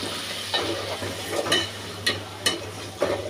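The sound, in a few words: soybean oil added to a cooking pot for cow tripe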